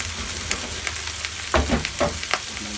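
Food fries in a pan for a simple home recipe: a steady close sizzle runs throughout, with a few louder scraping stirs midway.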